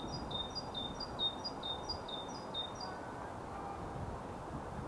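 A bird on a nature trail repeats a high, clear whistled phrase in a quick rhythmic series, moderately near and carrying over faint outdoor background noise.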